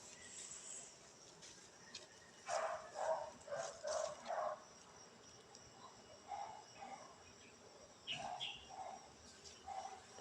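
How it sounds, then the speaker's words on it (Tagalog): Dogs bark in short repeated runs at a moderate distance outdoors near rambutan trees, set over a constant bed of crickets, with faint voices at times. "Nanatol ang mga aso."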